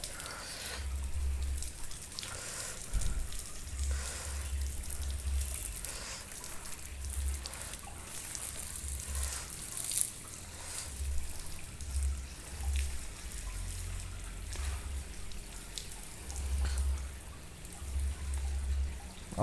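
Water spraying and splashing while rinsing a bicycle during a bike wash, a steady hiss with dripping and a rhythmic low thumping underneath, moderately loud.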